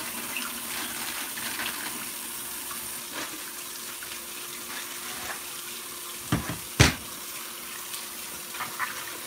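Kitchen tap runs steadily into a sink to soak porterhouse and T-bone steaks, a soft continuous stream with a couple of louder splashes and clunks near the end.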